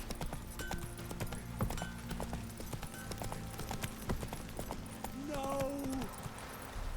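Geralt's horse Roach gallops in The Witcher 3: Wild Hunt, a steady rhythm of clip-clopping hoofbeats running throughout amid game music, while a voice cries out briefly over it.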